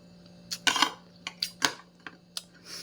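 Metal fork and spoon clinking against plates during a meal, several sharp separate taps and scrapes at irregular intervals, close and fairly quiet, with a steady low hum underneath.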